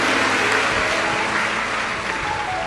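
An audience at a live Hindi religious discourse on the Shiva Mahapurana claps together in a dense, steady burst of applause that fills the short moment, loud and close, without any speech.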